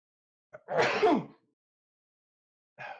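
A single sharp sneeze with a quick intake of breath beforehand, close and fairly loud, followed by a short breathy sound after a pause.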